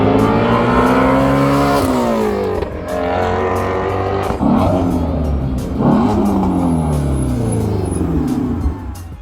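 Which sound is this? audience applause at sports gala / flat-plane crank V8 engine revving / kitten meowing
flat-plane crank V8 engine revving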